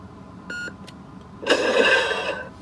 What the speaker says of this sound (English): press and hold, wait for 2 beeps.